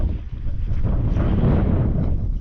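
Wind gusts buffet the microphone outdoors in blustery, changing weather, a continuous low roaring rumble with no voices.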